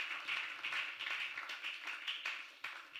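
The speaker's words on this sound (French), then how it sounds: "Acclamons pour la parole de Dieu" A church congregation applauds at a midweek teaching service: steady, dense clapping from many hands throughout, fairly distant and even in level, with no talking over it.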